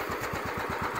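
A 2000 John Deere LT155 lawn tractor engine idles low and close, with a steady, even chugging pulse and no voices.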